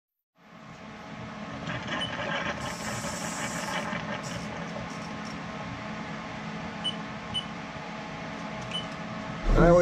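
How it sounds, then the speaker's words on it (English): A lathe cutting a thread on a rifle barrel muzzle with a threading tool, a steady close mechanical whir and rumble with a brief high scraping whine early on, continuing evenly until a louder knock at the end. "I always run the threading tool twice here for this."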